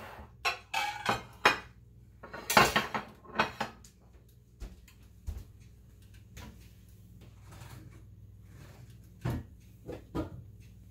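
Pan lid and cookware clatter in a home kitchen while dinner cooks and cheese melts, a series of sharp metallic knocks and clinks, some close and loud, then quieter scattered taps over a low steady hum.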